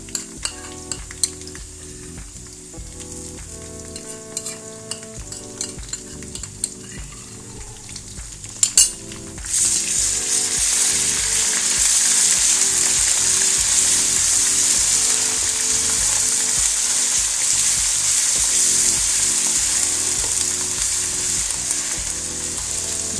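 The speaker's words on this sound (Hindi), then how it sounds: "दो से 3 मिनट हम इसको फ्राई करेंगे ताकि इसकी स्मेल ख़त्म हो जाए।" Ginger garlic paste added to golden browned onions in a pan for a squash and chicken dish: a few utensil clinks first, then a sudden loud steady sizzle as it fries and is stirred, close by with no talk.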